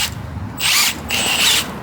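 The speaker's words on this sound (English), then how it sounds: "we're gonna put the drill bit just right on the side" A power drill fitted with a weeding bit pulls Kentucky bluegrass from a lawn, whining loudly in two close bursts with a short pause between them.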